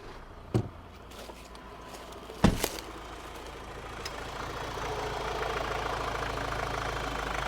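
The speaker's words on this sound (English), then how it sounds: "So you can see our engine is running now." A Ford Ranger engine settles into a low, steady idle after a couple of sharp clicks and a start-up thump, its hum rising slightly and holding constant.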